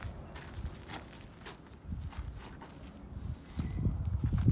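Footsteps of a person walking behind a saddled horse on the ground, with hoof clops mixed in, steady uneven steps growing louder toward the end, no talking.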